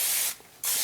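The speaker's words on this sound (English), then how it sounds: "Spray that down a little bit." Cooking oil spray misting mock chicken legs in an air fryer basket: two close, sharp hissing bursts separated by a brief pause, with no talking.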